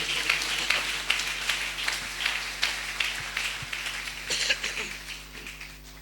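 A church congregation claps steadily in a lively, irregular patter, moderately loud and fading slightly toward the end, with a low steady hum beneath.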